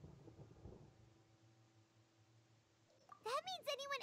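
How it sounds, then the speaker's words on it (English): Low rolling thunder rumbles through a storm in the video game Genshin Impact, a brief deep burst fading into a long faint hum before a child-like voice begins talking over the end. "Paimon hears thunder!"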